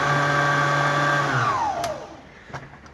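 A Kenwood Chef A701 stand mixer runs with its mincer attachment on the front shaft, a steady motor whine with harmonic tones that winds down and falls in pitch partway through, leaving faint clicks and handling noises.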